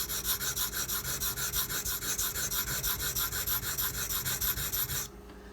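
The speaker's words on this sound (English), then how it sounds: "I'm going to invert my angle really high and I'm going to grind that down" A Kershaw Launch 11 knife bevel is ground on a sharpener at a high inverted angle, a steady rhythmic rasping of quick back-and-forth strokes that stops abruptly near the end.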